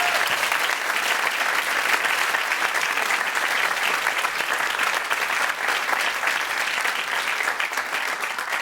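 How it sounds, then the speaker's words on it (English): Sustained, loud audience applause for a tech industry panel, dense clapping continuing steadily without letup and no voices rising above it. "Round of applause."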